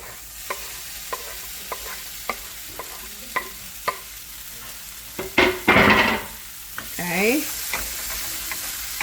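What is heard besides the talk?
onion and chile frying and being stirred in a pan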